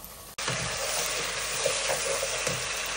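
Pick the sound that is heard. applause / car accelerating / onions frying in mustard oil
onions frying in mustard oil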